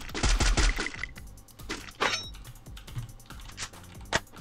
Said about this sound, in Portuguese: O cara tá atirando em alguém que tá vindo dali.